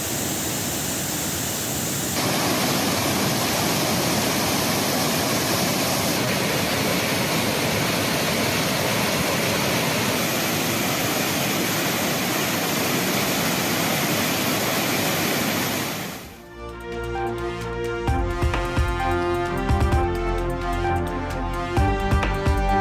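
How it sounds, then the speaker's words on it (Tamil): Thirparappu waterfall in flood after heavy rain, water pouring down in a loud, continuous roar that fills the scene, then gives way to music near the end. "திருப்பரப்பு அருவியில் ஆர்ப்பரித்து கொட்டும் தண்ணீர்"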